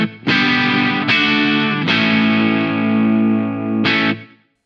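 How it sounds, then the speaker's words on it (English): Overdriven electric guitar through a CABM+ cab simulator with added echo: four distorted chord strikes that ring out with a smeared, echoing decay, loud and alone, ending in a quick cutoff. "Let's put a bit more echo on there."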